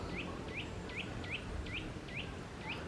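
Birds around a park feeder give faint, regular chirps, seven in a steady rhythm, over quiet outdoor background noise.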